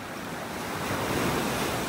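Gulf surf washes onto a beach in North Naples, Florida, a continuous broad rushing roar with some wind buffeting the microphone, steady and fairly close.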